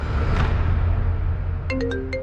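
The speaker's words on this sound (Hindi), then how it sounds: "इंस्पेक्टर रहाणे का मोबाइल बजा।" A mobile phone ringtone sounds near the end as a few short, bright electronic notes, heard over a low, rumbling dramatic background.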